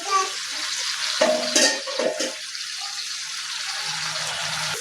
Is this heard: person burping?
no